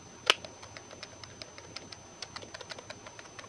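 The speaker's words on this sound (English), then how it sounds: "All those buttons make a clicking sound." Xbox 360 controller buttons clicked repeatedly by hand, one loud sharp click followed by a steady run of small, crisp clicks at a quick, uneven pace, close up with no talking.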